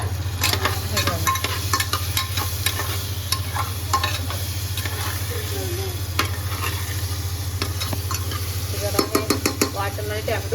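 Chopped tomatoes fry with ground masala paste in a pressure cooker for prawn rice, making a steady sizzle under repeated spoon scrapes and taps against the pot, with a constant low hum beneath.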